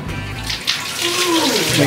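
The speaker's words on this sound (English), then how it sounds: "Let's get a bath going." A tap fills a bathtub aboard a ship, fresh water gushing in a loud, steady close-up rush that builds slightly as the flow settles, with a brief murmur of voices near the start.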